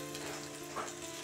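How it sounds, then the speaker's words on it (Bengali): Egg and flour batter frying in oil, turned over low to medium flame, with a steady close sizzle that holds level throughout and swells briefly near the middle. "ভাজা হচ্ছে"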